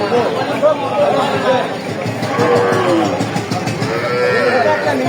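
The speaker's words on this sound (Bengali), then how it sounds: "সাইহল ষাঁড় বাচ্চা।" A Sahiwal bull calf moos at a busy village cattle market, the lowing rising over constant crowd chatter and nearby talking that runs throughout.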